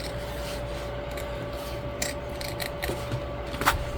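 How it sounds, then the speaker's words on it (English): Shears trimming fabric seam allowance while sewing a bag, several quick crisp snips spread over a steady low background hum, close and fairly quiet, no talking. "we're gonna trim down our seam allowance. You can use peeking shears here if you want."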